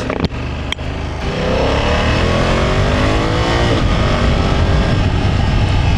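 A 2024 BMW F 800 GS adventure motorcycle accelerates hard from close by after a couple of sharp clicks, its engine note climbing steadily through smooth quick-shifter gear changes, loud and continuous.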